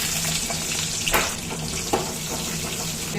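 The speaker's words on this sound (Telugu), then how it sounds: "ఇవి ఫ్రై అయిన తర్వాత ఇప్పుడు ఆనియన్ వేస్తున్నాం" Onions frying in hot oil with chana dal and urad dal in a pan, a steady close sizzle with a couple of sharp clicks of stirring, no talking.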